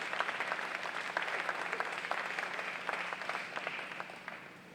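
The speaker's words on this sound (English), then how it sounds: "a big round of applause for all of our sponsors" A crowd at a Marietta College event applauds sponsors' representatives stepping up, a sustained, fairly faint wash of many hands clapping that holds steady and then tapers slightly toward the end.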